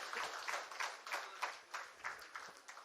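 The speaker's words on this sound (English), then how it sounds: "Can we have some clapping for our CM" An audience claps in short uneven bursts at a corporate CSR conclave, applauding the chief minister. The clapping is faint and distant, with no voices over it.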